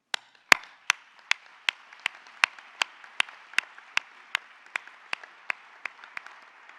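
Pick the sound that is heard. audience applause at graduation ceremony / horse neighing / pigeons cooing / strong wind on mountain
audience applause at graduation ceremony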